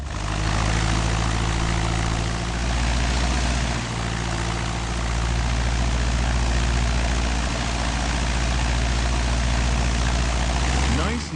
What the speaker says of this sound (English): let's perform a quick run-up on the engine